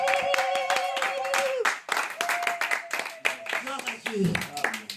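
A standing church congregation claps and applauds together, a steady dense patter of many hands throughout, with a sung or sustained voice and shouting mixed over it.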